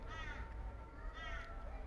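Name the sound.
bird calling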